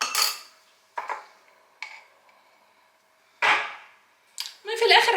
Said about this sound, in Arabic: هحط منه حتت صغيره هنا بالمعلقه كده